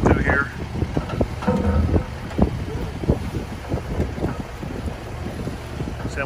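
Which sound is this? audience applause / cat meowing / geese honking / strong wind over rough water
strong wind over rough water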